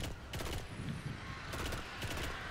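Bursts of cover-fire gunshots in the Destiny video game during a King's Fall raid, coming in a few rapid volleys over a steady game background.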